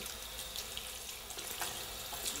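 Tap water runs steadily into a sink, a constant close splashing rush for bathing a ferret, with no voices.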